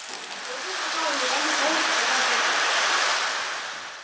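Steady, heavy rain pours at a village homestay in Yunnan, a dense continuous hiss with no breaks and no voices.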